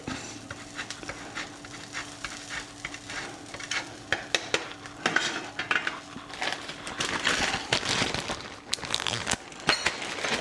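Parmesan Reggiano cheese grated over a skillet lemon chicken dish, giving close, scratchy rasping strokes that come in quick irregular bursts and grow busier toward the end, with faint clinks of kitchen utensils.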